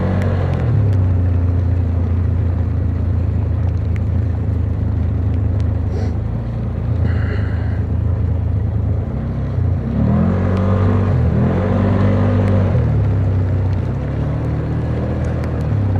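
An ATV engine drones loudly and continuously while driving, a close, steady low rumble with a few swells where the throttle rises and falls.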